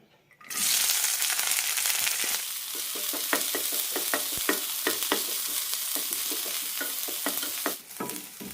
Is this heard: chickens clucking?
no